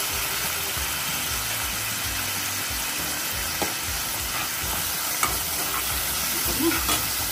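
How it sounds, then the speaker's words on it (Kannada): Oil sizzling in a pan while cooking bisibelebath, a steady loud frying hiss with occasional pops and stirring scrapes, close and continuous throughout. "ಸ್ವಲ್ಪ ಎಣ್ಣೆ ಹಾಕ್ತೀನಿ."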